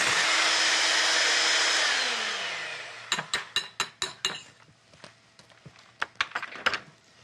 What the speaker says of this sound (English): you're going to whisk 1/3 of the egg whites into the egg yolk mix and then fold in the rest